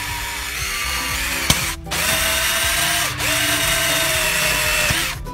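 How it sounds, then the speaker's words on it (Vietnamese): A power drill fitted with a 17 mm bit bores into PVC pipe for irrigation, running loud and steady with brief pauses and pitch shifts as the bit bites, no talking over it. "Cái này là chúng ta tiến hành khoan."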